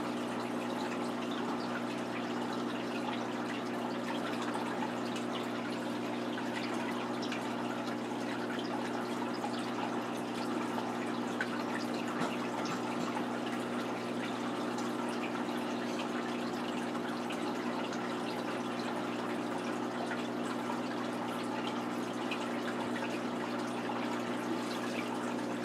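Water pours steadily into a 125-gallon planted aquarium being refilled during a water change, a constant unbroken rush over a low, even hum that holds at the same close, moderate level throughout, with no voices.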